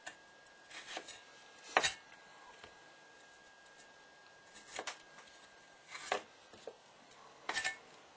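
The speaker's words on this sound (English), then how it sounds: "you can actually just hack away at everything with a knife" Knife hacking through fresh ginger on a board, a few faint, scattered chops in short clustered bursts with quiet gaps between, no talking.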